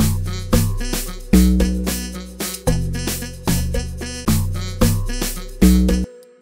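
A log drum preset in Ableton Live plays alongside other instruments in a looping electronic groove, with deep booming bass hits every half second or so, layered chords and a steady beat, loud and up close with no talk.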